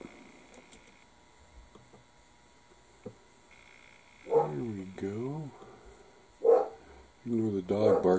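An indoor dog barks and whines in three bursts, the first two rising and falling and the last a rapid run of barks, with faint computer and room sounds between them.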